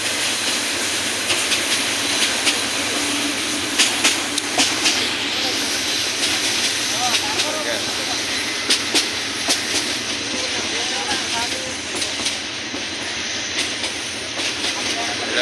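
A crowded Jamalpur commuter train bound for Dewanganj, with passengers packed on its roof, rounds a curve in a loud continuous rumble, with clattering wheel clicks and hissing throughout and voices faintly underneath.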